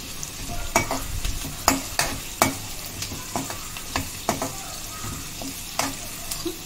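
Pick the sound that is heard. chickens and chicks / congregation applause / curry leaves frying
curry leaves frying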